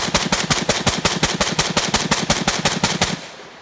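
An Armalite AR-180B rifle fires a rapid string of about sixteen evenly spaced shots, loud and sharp at close range, ending in a brief fading echo.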